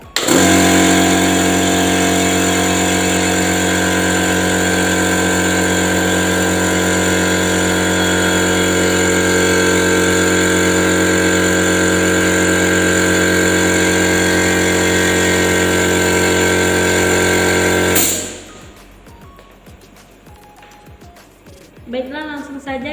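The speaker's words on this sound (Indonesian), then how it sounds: "terlebih dahulu saya menghidupkan kompresor untuk" An air compressor supplying air pressure for a pneumatic trainer module runs with a loud, steady motor drone for about eighteen seconds, then cuts off, leaving low room noise and faint clatter.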